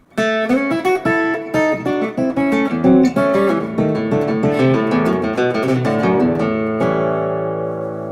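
A solo electric guitar plays a quick, twangy country lick, plucked notes ending on a ringing sustained chord that fades.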